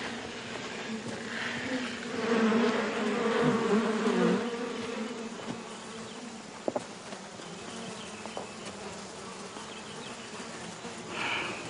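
Bees swarming around their hives outdoors, a steady soft buzz that swells for a few seconds and then settles, with a few light knocks and clicks, no voices.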